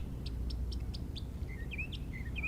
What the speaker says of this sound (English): birds chirping around me and the ducks honking in the back